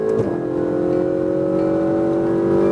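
A supercar's engine drones steadily under throttle on a Las Vegas track, a loud, close, sustained tone with a brief shift blip near the start.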